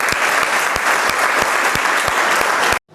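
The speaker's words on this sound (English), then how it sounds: "give a huge round of applause to Riya" An audience of students claps loudly and steadily for Riya, a 10+2 science student about to give a talk on matrices. The dense applause continues without a break and then cuts off abruptly at the end.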